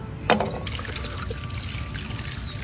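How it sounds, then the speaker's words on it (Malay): Water is poured into grated cassava dough for a traditional kuih, a short splashing gush followed by a close, continuous trickling pour. "Kita masuk air nisang."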